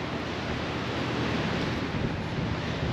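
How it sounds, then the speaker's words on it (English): Strong wind buffets the microphone outdoors in Hawaii, a steady, loud low rumble and roar across the whole stretch with no voices. "it's kind of windy"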